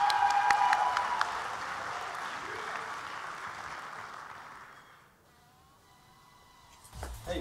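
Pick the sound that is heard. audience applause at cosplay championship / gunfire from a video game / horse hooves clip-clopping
audience applause at cosplay championship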